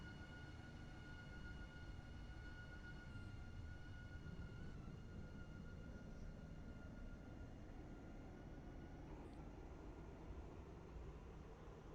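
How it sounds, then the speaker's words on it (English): A train in the video game Stepford County Railway pulls out of Leighton City station with a steady rumbling drone and a sustained high tone, with no talk over it. "so as that train pulls out"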